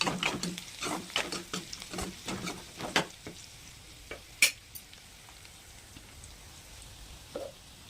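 Crushed shallots frying in a pan, stirred with a utensil: a crackling sizzle with a run of sharp scrapes and taps early on that thin out to a quieter simmer with occasional clinks, close and clear.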